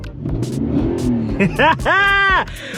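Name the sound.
pickup truck engine running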